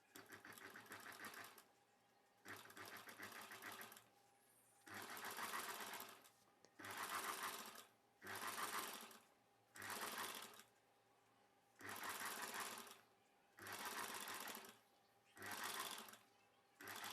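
Sewing machine stitching thread piping around the boat neck of a saree blouse, running in about nine bursts of a second or so with short pauses between, close and clear.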